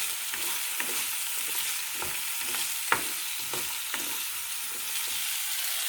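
Onions sizzle steadily in a pan while a utensil stirs them, giving a series of scraping clicks and one sharper knock over the constant frying hiss, close and with no talking.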